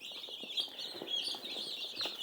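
Chickens clucking steadily in a farm setting, a dense overlapping flock chatter of short clucks and calls close by, continuous throughout with no voices.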